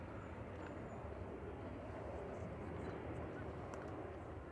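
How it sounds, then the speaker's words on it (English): A steady, broadband roar of an airplane engine at Manchester Airport, constant and moderately distant, filling the clip without clear breaks. "plane is so noisy"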